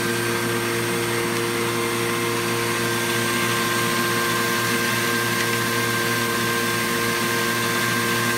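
Baum Ultrafold paper folding machine running with its air and vacuum feed, a loud, steady mechanical whir with a constant tonal hum and airy hiss, continuous and close with no talking.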